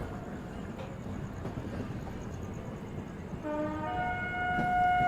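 A Vande Bharat Express train approaches, first as a broad steady rumble, then with a loud sustained horn-like tone that builds toward the end, with no talk.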